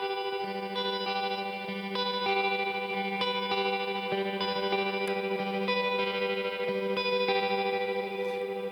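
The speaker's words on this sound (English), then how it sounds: "this other one turns on the tremolo on the H9" Electric guitar chords shimmering with a pulsing tremolo, washed in reverb and lingering echoes, played steadily without any voices.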